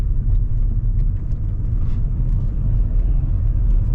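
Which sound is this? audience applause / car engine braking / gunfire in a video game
car engine braking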